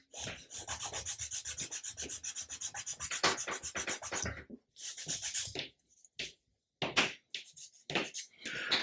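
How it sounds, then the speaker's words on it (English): Steady rhythmic rasping of sandpaper rubbed back and forth on a wooden 1/80 scale model ship part, close and continuous at first, then shorter separate strokes with brief pauses. "we've got to do a little bit more sanding to put the curve back in"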